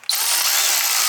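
High-pitched whine of a power tool driving 10mm bolts into a Jeep thermostat housing, starting abruptly and running steadily at close range with no talking.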